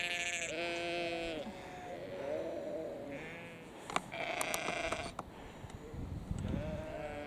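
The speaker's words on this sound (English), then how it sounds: "Sheep are coming towards us." Sheep on a winter country walk in the Yorkshire Dales bleat repeatedly as the flock approaches, several loud nearby calls overlapping in bursts over outdoor ambience and footsteps.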